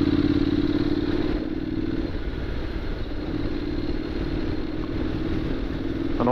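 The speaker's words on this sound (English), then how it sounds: "I'm on a sort of semi-adventure bike, if you like, the Honda." A Honda X-ADV 750 DCT motorcycle rides off road, its engine droning steadily under a constant rumble of tyres and clattering over rough ground, with no talk.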